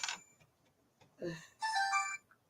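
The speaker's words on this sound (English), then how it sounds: "Go away, phone." A phone ringtone chimes in short bright bursts, starting with a brief tone, then a louder sustained melodic stretch near the end, heard alone at moderate level.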